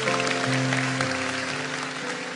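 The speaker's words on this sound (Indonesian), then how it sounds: "Kasih tepuk tangan untuk Austin sekali lagi." Church congregation clapping for a young speaker named Austin at a Pentecost service, a dense steady wash of applause lasting the whole moment under a sustained organ-like musical tone, without a break.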